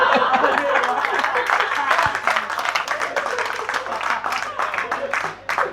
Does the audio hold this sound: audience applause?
yes